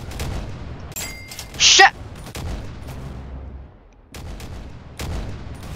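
Sniper rifle gunfire in a shooter video game on the Arsenal map, a few sharp booming shots with a loud blast midway, followed by a brief swearing voice.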